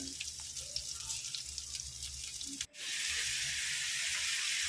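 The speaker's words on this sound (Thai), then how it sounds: "ผัดใบกะเพราเรานะ" Steady sizzling from a hot wok with light clatter as garlic fries for stir-fried holy basil with pork, briefly interrupted, then a louder, continuous hiss of frying.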